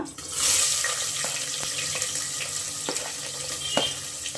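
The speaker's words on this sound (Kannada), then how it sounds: "ಸ್ವಲ್ಪ ಈರುಳ್ಳಿ ಫ್ರೈ ಆಗಬೇಕು, ಸ್ವಲ್ಪ ಫ್ರೈ ಆದರೆ ಚೆನ್ನಾಗಿರುತ್ತೆ" Onions fry in hot oil with a steady, dense, hissing sizzle and occasional light clicks of a utensil against the pan. Close and even in loudness, with no voices.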